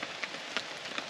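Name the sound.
rain falling in the woods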